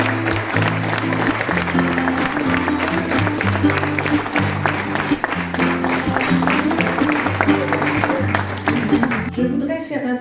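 A town audience applauds the children's council at a mayor's public presentation in Crécy-la-Chapelle. The sustained, even clapping sits over steady low musical tones and fades out abruptly at the end.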